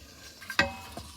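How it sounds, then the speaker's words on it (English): A spoon stirs hot chocolate inside an Instant Pot, a brief quiet scrape with one sharper clink at the pot's side. "So I'm gonna keep on stirring it"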